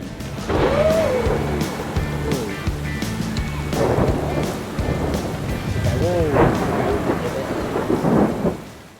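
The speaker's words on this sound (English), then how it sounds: "the second day got cut a bit short as a thunderstorm came in" Thunder rolls through a storm at Mount Bachelor Bike Park, deep rumbles swelling and fading across the whole stretch amid steady rain hiss, with voices talking faintly now and then.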